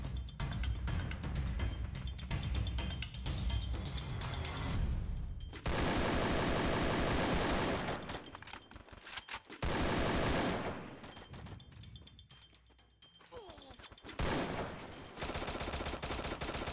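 Rapid automatic gunfire in Free Fire during a 25-versus-25 clan war, loud and dense, with sustained bursts broken by short pauses.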